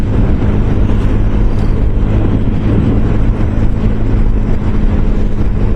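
Constant low roaring rush of wind buffeting the microphone, loud and unbroken for the whole stretch, with no talking.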